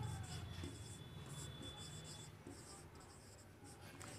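Pen or pencil writing out maths working by hand, with quiet, close scratching strokes in short bursts and pauses, low and faint throughout with no one speaking.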